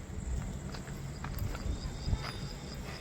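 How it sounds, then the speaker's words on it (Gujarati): Hooves of a Kathiyawadi mare clip-clopping as she walks in a quick gait, a steady run of soft thuds close by over low background noise. "બહુ સારી ઘોડી છે"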